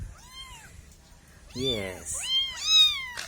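Cat meowing several times, a thin drawn-out mew followed by louder, rising and falling meows in close succession, near and clear, with a person speaking briefly.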